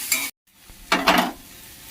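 A chopped small tomato goes into hot oil with dark-fried curry leaves for suji upma, setting off a loud, close sizzle with stirring after a brief silent gap, then a softer, steady frying hiss.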